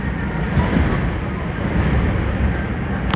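A New York subway 5 train rides local out of Wakefield-241st Street, its steady rumbling rail noise and wheel roar filling the car from inside, loud and continuous throughout.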